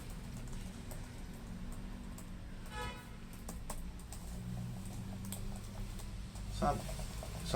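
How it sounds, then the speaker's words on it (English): Computer keyboard keys click and patter while the keyboard is cleaned with liquid alcohol, soft irregular presses heard close up beneath a low steady background hum. "Some sound like click."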